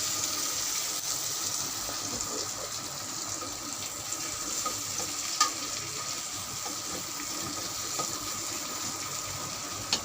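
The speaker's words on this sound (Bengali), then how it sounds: "তারপরে দিয়ে দিচ্ছি আমরা একটু পেঁয়াজটা ব্রাউন কালার হোক" Onions frying in a pan until they brown, a steady close hiss and sizzle with faint stirring clicks, continuous and without voices.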